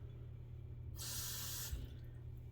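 Water poured into a mug to soak a boar-bristle shaving brush: a short, soft hissing splash lasting under a second over a quiet background hum.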